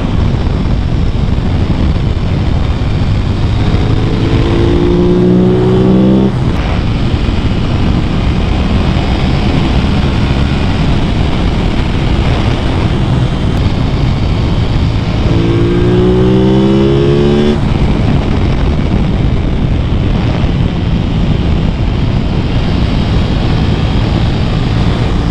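A 2022 Aprilia RS 660 motorcycle is ridden hard under loud, continuous engine and wind roar. Two distinct acceleration runs climb through rising revs, each with a quick succession of gear changes, and no voices are heard.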